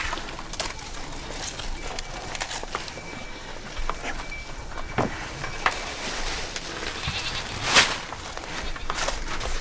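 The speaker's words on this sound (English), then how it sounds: "The farmer next door's just got a new baby goat." A newborn goat on a neighbouring farm bleats a few times, faint and distant, amid outdoor ambience with footsteps and light movement nearby.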